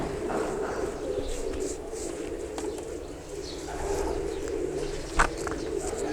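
Pet pigeons coo in soft, repeated throaty calls over a busy background hum, with a brief louder sound near the end.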